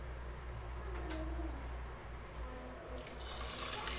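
Water runs steadily from a tap into a cooking pot, a continuous gushing stream with a faint low hum underneath.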